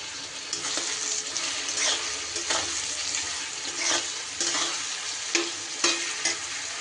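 Onions fry with salt in a pan for a quick mutton curry, making a constant close sizzle with soft scraping stirs every second or so and no speech.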